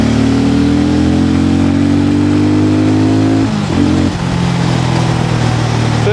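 A Hero Mavrick 440 motorcycle accelerates hard, its loud engine note climbing steadily in pitch before a brief dip at a gear change, then pulling on strongly again.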